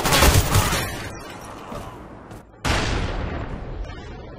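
A grenade blast booms in a 3v3 Domination match of the game GB, a loud close burst opening into a rolling roar, then a second sharp blast with a long decaying rumble.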